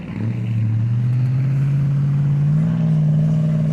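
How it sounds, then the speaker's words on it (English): A cheap pickup truck's engine revs hard and steady while it tries to drift in two-wheel drive on a Minnesota hill climb. The drone is loud, close and continuous, rising slightly in pitch near the end, with no talk. "I'm gonna try drift this in 2-wheel."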